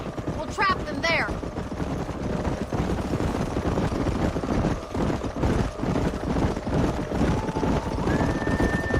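Rapid galloping hoofbeats pound continuously amid a busy Red Dead Redemption game soundscape, with a horse whinny early on and a rising tone near the end.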